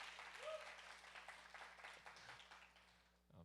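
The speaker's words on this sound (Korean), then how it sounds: "이왕이면 박수를 한번 쳐주시면" Audience applause at a Korean church worship service, a steady crowd of clapping hands, moderately loud, that fades out near the end with a brief murmur.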